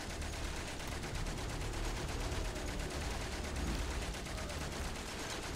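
Enemy gunfire in the video game Valiant Hearts, a dense, continuous rattle of shots that keeps going at a steady, loud level the whole time.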